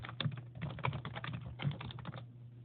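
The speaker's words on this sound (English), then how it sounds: "We can type the domain name" Computer keyboard typing while a domain name is entered during DNS server setup, a steady run of close, quick key clicks with brief pauses and one short lull near the end.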